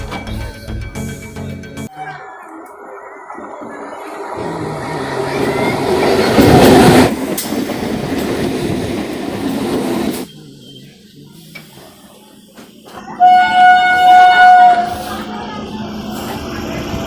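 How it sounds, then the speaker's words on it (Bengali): A Santipur–Bongaon local train pulls into Majhergram station on the Ranaghat–Bongaon line, with a steady rumble and wheel clatter that swells mid-way. Squealing brake tones follow near the end, and a voice may be faintly audible. "ট্রেন এখন মাঝেগ্রাম ঢুকছে।"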